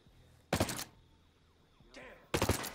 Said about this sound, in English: Taking fire from somewhere!